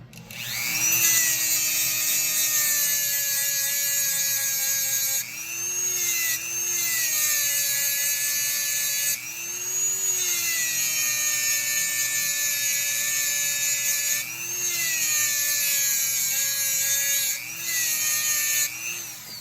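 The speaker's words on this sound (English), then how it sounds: "And then we'll take my Dremel and clean this up just a tad more." A handheld Dremel rotary tool cleans up a part, its steady high-pitched whine running loud and close throughout, dipping and rising in pitch several times as it bears into the work.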